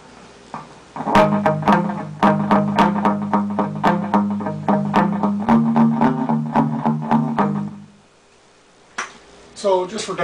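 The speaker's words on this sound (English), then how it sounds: "Now if you turn down the echo volume, you can just get a slap back." Electric guitar through a Xam amp's echo set to a short slap back, a Danelectro French Toast pedal in the chain: bright plucked notes and chords in a steady rhythm for about seven seconds, each doubled by a quick repeat, then a few faint strums.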